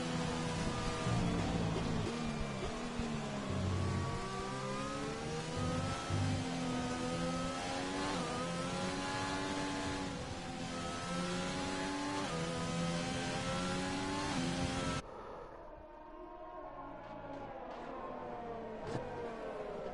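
A McLaren race car engine in a racing video game roars and revs continuously at close range while overtaking, with shifting engine pitch; the sound drops abruptly to a quieter, muffled drone near the end.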